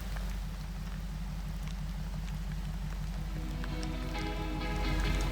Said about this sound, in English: I love the big drops of rain